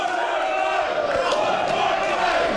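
An indie wrestling crowd at a bar venue roars and cheers continuously after a wrestler is thrown off the bar, a loud sustained wall of voices and shouting.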